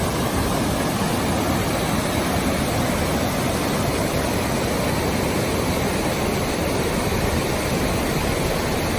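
A powerful mountain stream along the John Muir Trail, flowing down from Island Pass toward Thousand Island Lakes, rushes close by in a loud, steady, unbroken roar of water.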